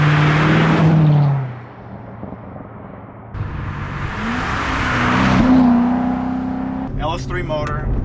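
A Corvette with a completely stock LS3 V8 engine driving, a steady close engine drone that dips, then rises into a stronger run, with a person talking over it near the end.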